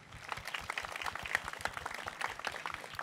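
Audience applause at a televised singing contest semi-final, a steady wash of many hands clapping for about three seconds, moderately distant and fairly soft, with no clear talk over it.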